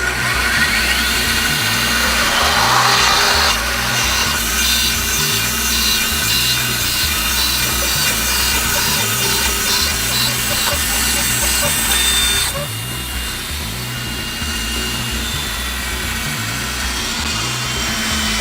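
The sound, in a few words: band saw cutting wood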